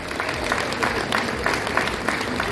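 A crowd at a seniors' banquet in Lourdes claps steadily, a dense, even wash of many hands close by with no voices on top.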